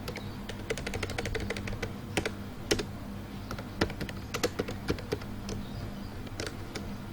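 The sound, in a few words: typing C code on a computer keyboard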